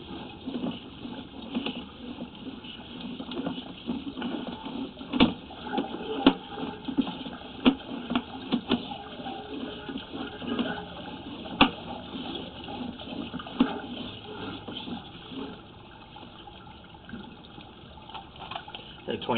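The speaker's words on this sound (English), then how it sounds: "I do have water running through the system utilizing a hose that I carry on my truck." Water from a hose runs through a residential sewer line and into 4-inch PVC pipe, giving a steady hollow trickling and gurgling. Scattered clicks and knocks come from inside the pipe.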